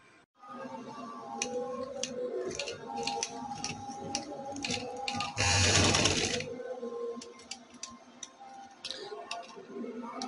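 A sewing machine winds mixed-colour thread onto a bobbin in one loud, fast whirring burst of about a second, amid quieter ticks and clicks of handling close up.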